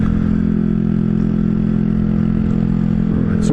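A Honda Grom motorcycle engine hums loud and close at speed through the gears, a steady buzzing drone with wind rush and no talking.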